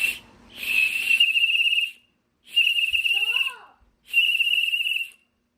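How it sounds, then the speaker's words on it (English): A shrill antique toy whistle blows three times in long, steady blasts with brief silences between, close and loud. "That whistle probably hasn't blown in 80 years."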